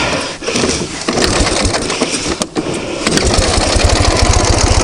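A Ural motorcycle engine catches and runs loud and close, settling into a steady rapid chugging beat after a few seconds of harsh churning, with no talk over it.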